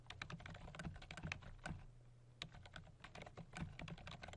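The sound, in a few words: typing on a computer keyboard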